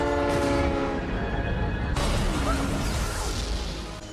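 A train rumbles through a tunnel in a sci-fi TV episode, with a steady roar, a sustained horn-like tone, and a sudden swell in loudness midway, the sound fading slightly toward the end.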